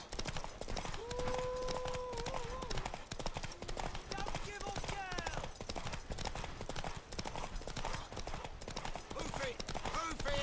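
Rhythmic clip-clop of a horse's hooves galloping through The Witcher 3: Wild Hunt, steady and continuous across the stretch, mixed with game sounds and a few brief vocal calls.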